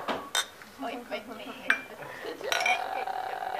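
Glasses and cutlery clink in a casual toast: several sharp chinks scattered over a few seconds, then a brighter ringing clink near the end, close and clear, with faint voices in the background.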